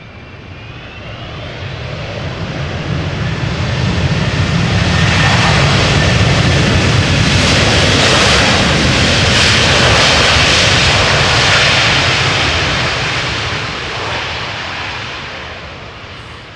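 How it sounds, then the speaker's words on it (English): A Delta Airbus A330-300 airliner arriving at Amsterdam Schiphol airport swells from distance into a loud, broad jet-engine roar, peaks mid-pass, then slowly fades, with no voices. "This is Delta Airlines Flight 162 arriving from Minneapolis in Minnesota."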